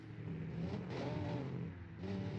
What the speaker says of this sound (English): BMW goes past.